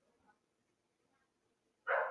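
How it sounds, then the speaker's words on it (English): A dog barks once, loud and close, in a single short burst after a near-silent stretch in a quiet indoor room. "You don't need to bark like that."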